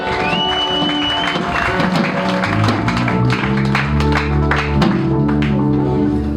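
A church congregation breaks into applause during a sermon, a dense patter of claps layered over sustained keyboard music and a faint voice.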